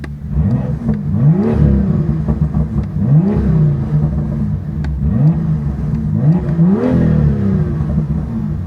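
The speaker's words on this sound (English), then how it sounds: "I'm just going to switch it over to neutral, get a little bit of exhaust." A 2018 BMW M2 with M Performance exhaust revs up sharply in neutral about four times in a row, each rise of the engine note falling back to a burbling idle.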